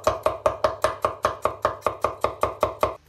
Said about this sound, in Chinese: 大蒜生姜分别切片备用